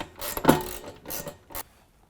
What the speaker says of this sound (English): use a 13mm to tighten down the rocker panel bolt